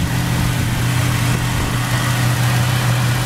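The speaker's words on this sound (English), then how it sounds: "now is powered by a beautiful running 454, big block, four barrel, with power steering and power brakes" A 454 big block V8 with a four-barrel carburetor in a 1967 Chevrolet Chevelle SS convertible runs at a steady, deep idle, close and loud, with no other sounds over it.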